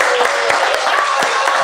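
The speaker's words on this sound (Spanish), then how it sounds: "aplauso para Jenny Gamboa" A TV show audience claps for a contestant, producing a dense, even wash of applause that holds at a steady moderate loudness throughout.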